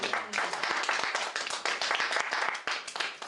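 A church congregation claps and applauds, with many hands giving dense, lively clapping that holds steady and fills the room throughout.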